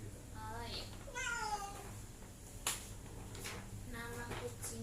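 A cat meows several times at a veterinary clinic, rising and falling cries close by, with a sharp click and people talking quietly in the room.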